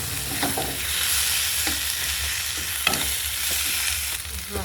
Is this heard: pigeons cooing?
no